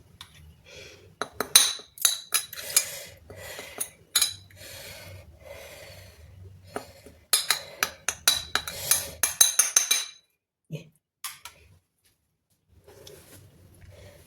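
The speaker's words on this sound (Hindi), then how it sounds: "देखिए स्पून लेते हैं, और ये जो मेरी चटनी है, ये इसको हम थोड़ा सा फैला देते हैं इस प्लेट में" A spoon spreading green chutney across a plate gives close, intermittent clinks and scrapes of metal on the dish, in bursts separated by short pauses and a stretch of near silence near the end, with no talking.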